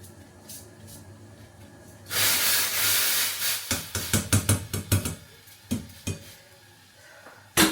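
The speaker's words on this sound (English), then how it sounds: "so the water is already boiled. So I'm going to pour the rice here." Rice poured into a pot of boiled water gives a sudden loud hiss and rush of steam, then a series of close, sharp clinks and taps of a utensil against the pot as it settles.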